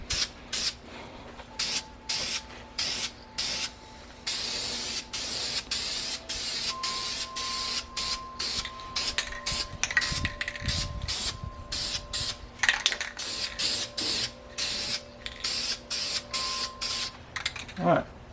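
Spray paint hisses in repeated short bursts as a light primer coat goes onto an engine block, the pulses regular and close, with a person talking between and over the spraying.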